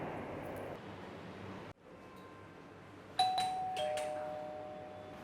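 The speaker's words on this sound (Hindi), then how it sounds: "इतनी देर से घंटी बजा रहा हूँ, कोई दरवाज़ा नहीं खोल रहा।" A house doorbell rings several times as clear chiming tones over a quiet room, each ring fading out gradually.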